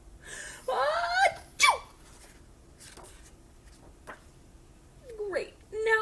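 A storyteller reading a children's picture book imitates sneezes with her voice, a few sharp vocal bursts and strained rising gasps spaced across the moment, loud and close.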